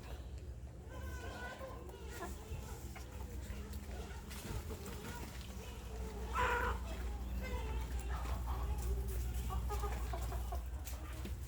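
Burmese chickens cluck and call softly in a farm pen, their short clucks scattered through the clip under a steady low hum, with a voice speaking now and then.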